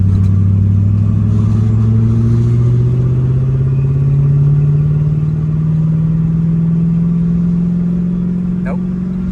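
A 1970 Pontiac LeMans engine runs in a steady, loud drone whose pitch creeps slowly upward during an attempt to shift gears, with a faint clunk near the end.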